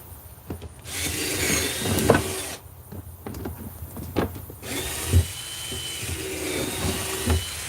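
A power drill whirs in repeated bursts, spinning up and stopping as it bores holes through a plastic trash can, with clicks and handling noise between runs.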